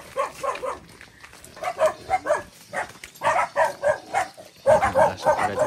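Several dogs barking and yelping repeatedly nearby, an overlapping excited chorus of short barks that grows louder toward the end.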